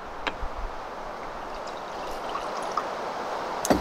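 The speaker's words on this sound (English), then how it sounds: "pour out a little of my bone broth" Bone broth poured from a container in a kitchen, a soft continuous trickling stream with a few small clinks and taps, close and fairly quiet.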